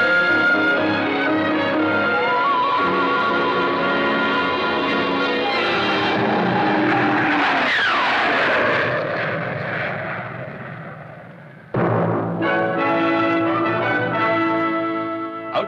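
A single-seat F-86 jet fighter roars past, a loud continuous whine and rush that swells to a peak and then recedes, with a second sustained jet roar following, no voices heard.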